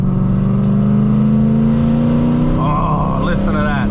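Mercedes C63 AMG engine droning under load while driving, a loud sustained exhaust note with steady pitch that climbs slightly near the end as revs build, close to the cabin.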